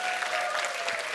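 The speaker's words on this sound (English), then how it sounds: "give yourselves a round of applause for coming here too" An audience applauds steadily in a hall, the dense clapping filling the whole short moment without a break.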